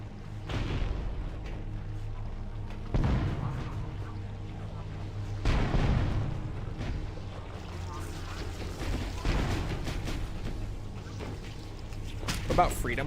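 Explosions in Halo: Combat Evolved sound as several dull, booming bursts at irregular intervals, with game noise and voices around them at moderate loudness.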